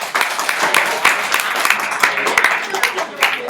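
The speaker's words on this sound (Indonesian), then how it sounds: "Tepuk tangan ya." Audience applause at a business talk in Indonesia, a steady wash of many hands clapping with some crowd noise and a voice mixed in, fairly loud and close throughout.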